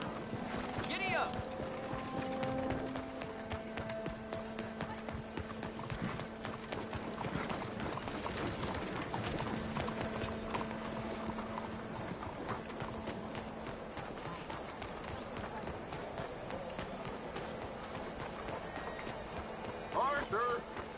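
Horse hooves gallop in Red Dead Redemption, a rapid, continuous clip-clop rhythm that stays close and steady throughout, with occasional tack and gear rattle and a brief whinny, while voices talk over it.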